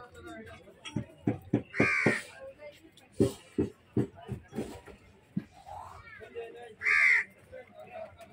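Crows caw in a few loud, harsh bursts close by, while a person nearby repeatedly calls out in short rhythmic shouts to draw them in.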